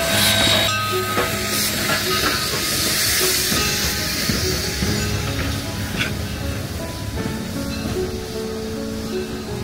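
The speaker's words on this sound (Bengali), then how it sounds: "একটা পুরনো ধাঁচের ট্রেন এখন স্টেশনে।" A vintage steam train stands at a high-altitude station and hisses steam loudly and continuously close by, with rail clanks and tonal whistling mixed in and a busy platform murmuring faintly behind.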